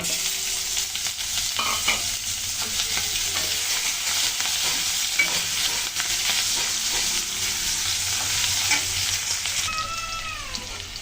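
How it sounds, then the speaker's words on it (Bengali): Cumin seeds and chopped onion frying in hot oil make a loud, dense sizzle that holds steady throughout, with faint stirring scrapes underneath. "তেল গরম হয়ে গেছে, আমি ফোড়নে দিয়ে দিচ্ছি কিছু জিরা, দিচ্ছি পেঁয়াজ কুচি"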